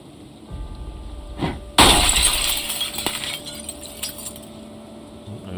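Glass window smashes loudly and shatters in the video game Project Zomboid, followed by a spray of tinkling shards and a few scattered clinks as pieces settle.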